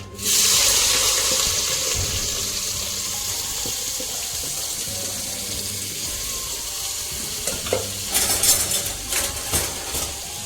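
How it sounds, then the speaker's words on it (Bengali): Onions hitting hot oil in a pan while cooking duck curry, a loud steady sizzle that hisses and splutters throughout, swelling with sharper crackles toward the end; no talking. "তেলটা গরম হয়ে গেছে এবার আমি পেঁয়াজটা দিয়ে দেবো"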